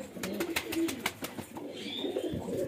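Fancy male pigeons give low, throaty coos close at hand, mixed with a few light clicks and flutters, soft and continuous.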